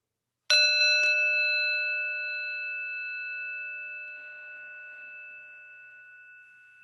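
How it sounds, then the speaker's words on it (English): One struck meditation bell rings out clearly, its pure tone sustaining and slowly fading over several seconds in otherwise quiet surroundings. "listen to the sound of the bell as it rings out, inviting us into stillness"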